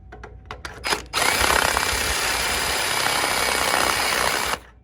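A power drill with a uni-bit step drill enlarges a hole for a 5/16 bolt in a painted battery ground mount on a Harley-Davidson; after a few short handling knocks comes a loud, close, steady whir of about three and a half seconds before it stops.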